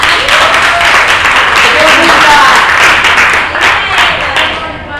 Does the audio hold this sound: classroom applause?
yes